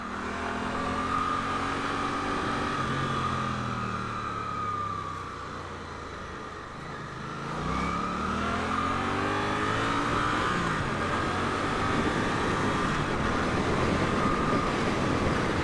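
A Suzuki GSX-8S twin-cylinder motorcycle engine drones steadily, its pitch dipping briefly and then climbing again as it revs and pulls away, loud and close throughout.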